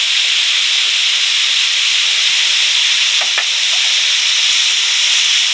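Cut potatoes frying with salt in a pan, giving a loud, steady hiss and sizzle with a couple of faint clinks partway through.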